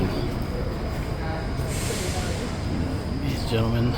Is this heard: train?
yes